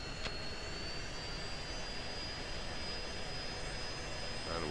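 A jet engine in Falcon BMS holds a steady, close, roaring whine with a constant broadband rush and a thin high tone above it, sustained at an even loudness throughout.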